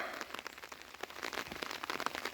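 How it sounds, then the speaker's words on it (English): Rain falling on a OneTigris Backwoods Bungalow 2.0 tent, a faint steady patter of scattered drops tapping the fabric, quiet and close with no talking. "This tent's had about a half an inch of rain on it so far."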